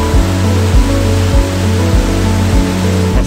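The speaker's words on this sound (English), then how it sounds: "That was a waterfall." A rain-swollen waterfall torrent near a hot springs town roars as a steady, dense rush of water, heard close and loud, with no voices over it.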